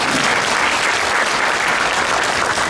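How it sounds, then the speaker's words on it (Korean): A pastors' patriotic prayer rally audience applauds a former justice minister and intelligence chief with dense, steady, loud clapping that fills the whole stretch, without any voice over it. "우리 박수 한번 하겠습니다"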